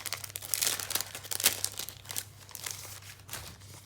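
Sticker sheets from a journaling kit are handled, with crisp crinkling and rustling of paper and plastic that comes in close bursts and continues for a few seconds.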